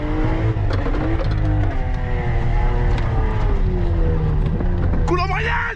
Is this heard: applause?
no